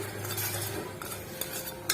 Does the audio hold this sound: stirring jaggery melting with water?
yes